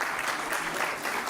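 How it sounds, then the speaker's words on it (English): Brief, steady burst of audience applause at a law school convocation ceremony, a dense even patter of many hands clapping. "Again, big round of applause."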